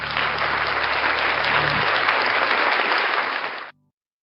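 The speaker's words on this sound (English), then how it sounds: "Round of applause for NCR News Network." An audience gives a loud, dense round of applause on a morning broadcast show, a sustained roar of clapping over a low steady hum, cutting off abruptly near the end and leaving silence.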